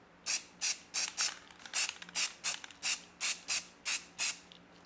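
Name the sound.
aerosol spray primer being sprayed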